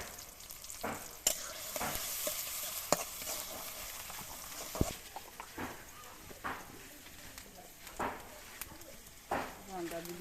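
Onions frying in oil in a wok, a soft crackling sizzle broken by repeated sharp spoon scrapes and clanks at irregular intervals, with quiet talk in the background.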